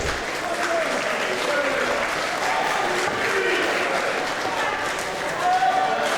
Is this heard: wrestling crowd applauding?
yes